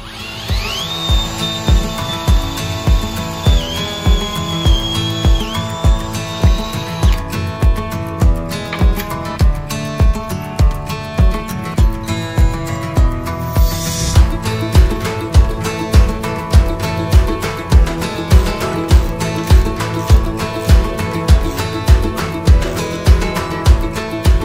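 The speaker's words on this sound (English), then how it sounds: "I'll finish drilling out the second top hole." A power drill whirs in steady repeated bursts drilling a hole in a jack plate, a rhythmic mechanical pulsing that continues close and loud throughout, with no talking.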